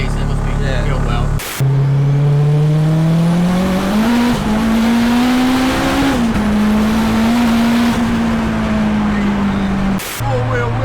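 A turbocharged, K20-powered, all-wheel-drive Honda Civic EP3 spins all four wheels on wet pavement. The engine holds a loud, sustained, rising drone, with brief gear-change breaks, and people speak over it.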